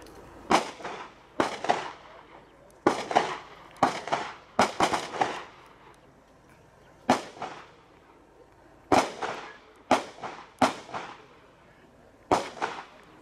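Sharp explosive bursts from grenades in a video game, about a dozen separate blasts in irregular clusters with brief decaying tails, fairly loud against a quiet background.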